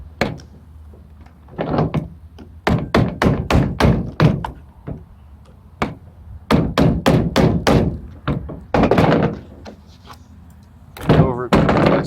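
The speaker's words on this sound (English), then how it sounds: "now I'm gonna hammer out these pins real quick" Sharp metallic hammer strikes drive the pins out of a Cybergun airsoft M249, coming in quick bursts of rapid close taps separated by short pauses, loud and dry on a workbench.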